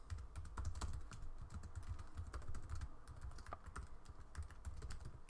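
Steady, close-up typing on a computer keyboard while writing JavaScript test code, with rapid irregular key clicks running continuously with no voice.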